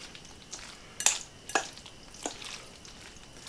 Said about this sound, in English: you just gently mix it in with a fork